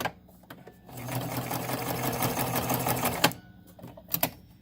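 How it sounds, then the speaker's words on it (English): A Singer Tradition sewing machine runs steadily for a couple of seconds with a fast mechanical whir, then stops, followed by a few light clicks. "tracing it with your sewing machine"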